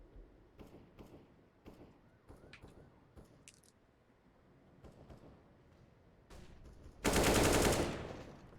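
AK rifle fire in a Counter-Strike match from ESEA Premier play: scattered sharp clicks and short shot transients, then a loud, dense burst of gunfire near the end.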